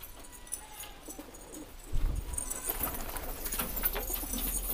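Pigeons coo softly at a pigeon house in India, low murmuring calls scattered over a faint outdoor background, with a few louder rustles and thumps partway through.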